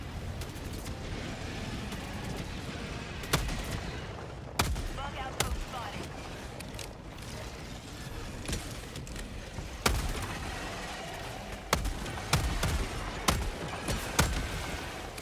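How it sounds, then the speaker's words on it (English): Gas grenades burst amid heavy gunfire in an online shooter game, with sharp, loud blasts scattered over a constant rumble of combat. "Are those gas grenades, my good sir?"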